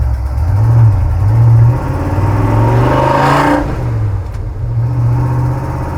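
A 1965 Ford F-250 truck engine on a test drive, a loud steady rumble with its pitch rising and falling as the throttle changes, running continuously with no voices.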